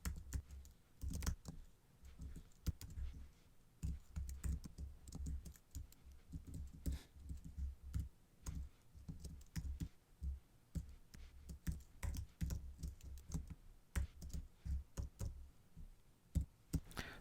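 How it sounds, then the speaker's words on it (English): Steady keyboard typing as code is entered on a computer, a run of close, crisp key clicks in uneven bursts with short pauses, no talking. "Now let's continue typing of this part."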